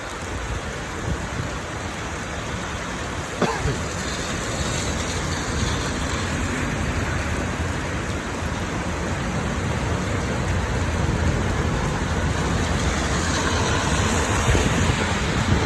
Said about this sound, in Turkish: Artık yağmur durana kadar burada duracağım.